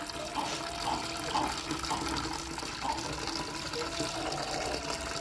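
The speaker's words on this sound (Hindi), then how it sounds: "एक और इनके लिए पानी का ड्रिंकर जो पहले था उसे अब भर रहे हैं" Water pours steadily from a container into a chicken drinker, a continuous gushing and splashing at close range, moderately loud.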